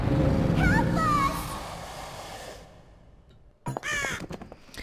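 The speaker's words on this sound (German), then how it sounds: "Die Krähen wirken ungewöhnlich bedrohlich." Crows caw in the Dark Parables video game, a few harsh calls over a dense ambient bed that fades to near quiet, then a louder burst of cawing returns at the end.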